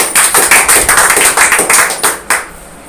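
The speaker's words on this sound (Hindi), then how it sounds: "इनके लिए भी एक ताली बजा दीजिए" A small gathered crowd claps at a village meeting, loud and close, in uneven bursts of rhythmic clapping that thin out and stop near the end, with no talk over it.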